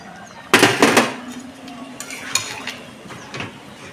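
Hot water is poured into a pot of cooking meat, giving a sudden loud splashing hiss that lasts about half a second, then fades to a low simmer with a few faint clinks.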